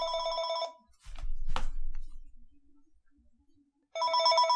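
A telephone rings in a Football Manager 2018 game with a bright, repeating electronic ring. One ring burst opens the clip and another comes near the end, separated by a short stretch of low thumps and quiet noise.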